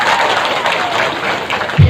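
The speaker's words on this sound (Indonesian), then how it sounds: "Tepuk tangan lagi" A crowd at a gathering claps in a brief burst of dense, even applause that carries on for the whole moment.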